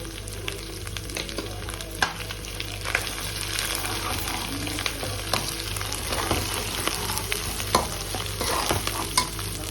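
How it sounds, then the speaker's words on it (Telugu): Curry leaf sprigs crackle and sizzle steadily in hot tempering oil for a country chicken curry, with close, repeated scraping of a stirring spoon throughout and no talk. "కరివేపాకు రెబ్బలు యాడ్ చేసేస్తున్నాను"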